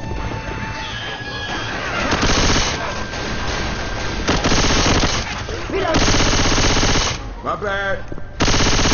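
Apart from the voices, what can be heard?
gunfire from video game Left 4 Dead 2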